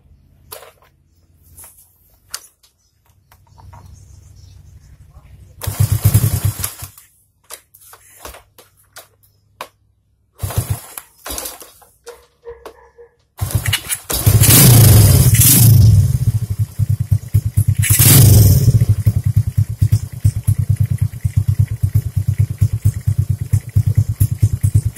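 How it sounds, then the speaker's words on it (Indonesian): Honda C70 Cub motorcycle with a 122cc engine, before a cam timing adjustment, starts up after some quiet clatter and settles into a loud, steady close-up idle with blips of revving. "Bagi anda semua dengar dia punya bunyi enjin sebelum kita adjust timing cam tu ke atas satu mata."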